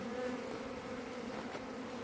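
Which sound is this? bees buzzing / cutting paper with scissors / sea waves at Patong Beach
bees buzzing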